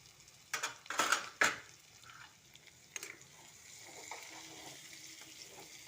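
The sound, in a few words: chickpeas added to fried spices, sizzling in pan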